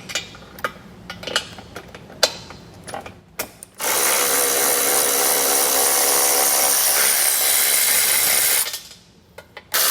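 Ratchet wrench loosening flange nuts on a hitch receiver base plate of a 2023 Tesla, a series of sharp clicking strokes followed by a long, loud continuous whir of a powered ratchet spinning, then a brief pause.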